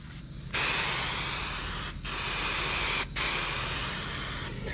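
Spray adhesive hisses from an aerosol can nozzle onto trailer bunks in three steady, loud bursts with brief pauses between them, close to the microphone.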